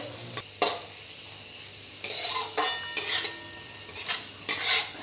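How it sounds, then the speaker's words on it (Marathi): Mixed vegetables stir-frying in oil over a high flame for Chinese-style fried rice, a steady sizzle broken by several sharp scrapes and clatters of a utensil tossing them in the pan, close up with no talking. "एक ते दीड मिनटं फास्ट गॅसवर ह्या भाज्या ज्या आहेत ते तेलावर परतून घ्यायच्या आहेत"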